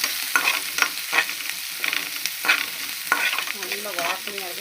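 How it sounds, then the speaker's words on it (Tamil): Onions and dried red chillies fry loudly in a pan, a close, crackling sizzle punctuated by rhythmic stirring scrapes, with no voices. "வெங்காயத்தை நல்லா வதக்கணும் வதக்கிடணும்."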